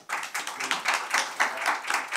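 Audience at a 2023 public-institution management evaluation conference panel applauds to welcome back a Kookmin University professor, a steady burst of fairly close clapping with irregular peaks, no voices over it.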